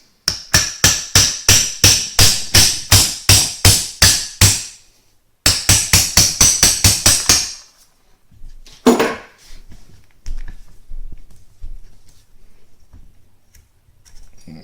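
Sharp metallic hammer taps driving out the pin of an AR15 trigger guard, a steady run of about a dozen evenly spaced strikes, a short pause, then eight more quick hits and some handling clatter.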